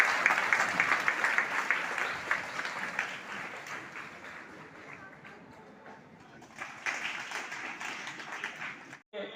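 Audience at a school award ceremony breaks into sustained applause, fading mid-way then swelling again, heard from a moderate distance and ending abruptly.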